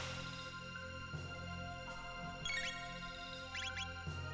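A phone notification chime sounds twice, brief bright tinkling tones near the middle and toward the end, over steady game music and background hum during an asynchronous video game race.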